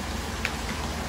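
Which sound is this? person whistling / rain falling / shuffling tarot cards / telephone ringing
rain falling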